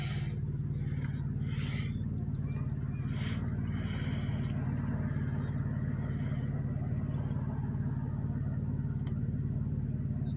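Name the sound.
cars passing on a street in both directions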